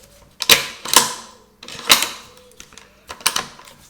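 A Savage Axis II Compact rifle bolt is worked by hand, giving several sharp metallic clacks and slides in uneven pairs, close and clear with no talking.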